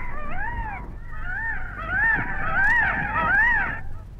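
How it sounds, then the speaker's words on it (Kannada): A peacock's call, played as a bird sound for a children's English lesson, a series of loud, wavering nasal wails repeated several times over a low background hum. "that is A peacock"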